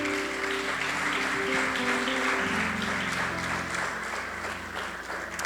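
Church congregation clapping during worship, a continuous wash of applause from a crowd with music and a low hum underneath.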